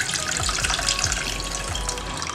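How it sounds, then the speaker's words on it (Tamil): Strained tamarind water pours steadily into a container, a continuous trickling and splashing stream, close and fairly loud. "இதை நல்லா வடிகட்டி ஊற்றிக்கலாம்."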